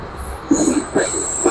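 A Bangladesh Railway train rumbles along the rails with a thin, steady high-pitched whine and a few low thumps, loud and near, over a brief stretch.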